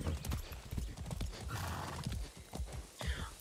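Horse hooves clip-clopping in the Far Cry 6 video game, a quick run of close, distinct hoof strikes with a short whinny partway through, fairly quiet overall.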